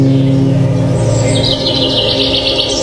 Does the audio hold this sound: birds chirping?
yes